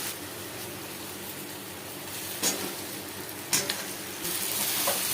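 Chicken and potatoes frying in a spiced onion masala in a pan, heard as a steady close sizzle broken by a few sharper stirring scrapes, with no talking.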